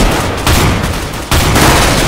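Loud, dense gunfire in Counter-Strike: Global Offensive, with bursts of rapid shots filling the whole moment and a brief dip partway through before the firing resumes.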